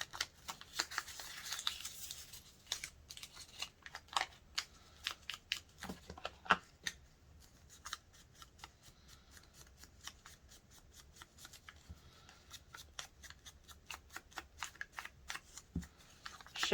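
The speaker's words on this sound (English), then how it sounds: "let's crinkle it up a little bit." Inked paper for a junk journal is crinkled up by hand, with many quick, soft crackling rustles in an irregular run, close but quiet and with no talk.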